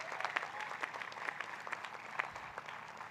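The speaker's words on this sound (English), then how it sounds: "Let's clap for all our graduates." A crowd applauds graduates at the MICA convocation ceremony, with continuous, somewhat distant clapping at moderate volume and no break.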